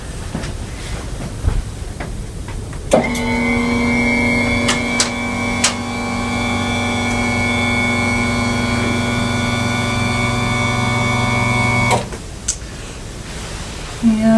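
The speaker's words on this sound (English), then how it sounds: "I'm gonna raise your bed to a working height" An electric hospital bed motor raises the bed in one steady, close-up whirring hum that holds for about nine seconds and then cuts off, with no talking.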